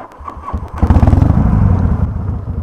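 A Harley motorcycle engine cranks briefly, then catches and settles into a loud, close, lumpy idle with a steady rapid throb.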